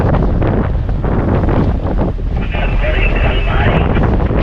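Strong wind at sea roars and buffets the microphone throughout on a fishing trip, with loud broadband rumble, and faint voices seem to sit underneath.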